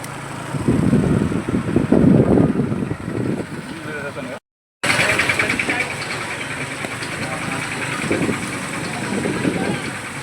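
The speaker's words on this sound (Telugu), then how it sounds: "ఇంజన్ ఆఫ్ చేయి" A vehicle engine idles on a rainy trip to a railway station, giving a steady low rumble and hum. Voices talk over it nearby, and the sound breaks briefly before carrying on.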